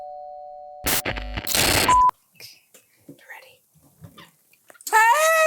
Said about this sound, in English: I hear doorbell.